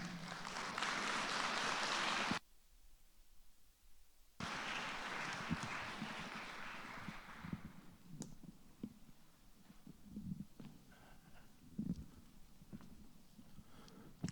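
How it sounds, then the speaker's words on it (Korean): A church congregation applauds their pastor as he comes forward. A dense burst of applause cuts off briefly, then a second wave fades into quiet room rumble and faint shuffling. "우리 목사님 나오실 때 큰 박수로 환영하겠습니다"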